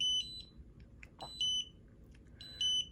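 A small electronic buzzer sounds a 'no' game cue as a series of short, shrill, high-pitched beep bursts repeating roughly every second and a quarter against a quiet background.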